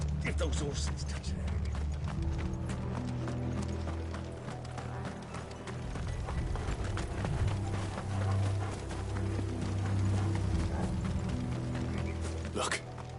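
Hooves of galloping horses in Final Fantasy XVI thud and clatter in a rapid, rough rhythm alongside rumbling cart-like mechanical noise, with voices speaking over the scene.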